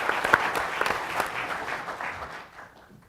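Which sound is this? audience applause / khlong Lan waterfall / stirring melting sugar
audience applause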